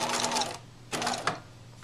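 A sewing machine runs in two short bursts of rapid stitching while reverse-stitching into fabric, a close, loud mechanical whir that stops briefly between runs.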